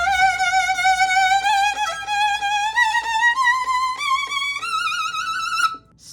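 Solo violin playing with a wide, wavy vibrato, a bright sustained melody line climbing in pitch with small ornaments, close and clear, cutting off abruptly near the end.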